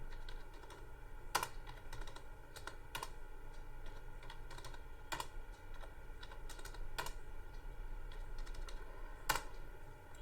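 Typing on a computer keyboard while entering salary figures into a Microsoft Excel sheet, with steady soft key clicks and a few sharper, louder keystrokes spaced through the clip, heard alone without speech.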